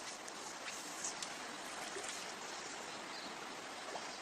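Waipunga River in New Zealand flowing past a bank, a steady rushing hiss of moving water, close and constant, with no voices.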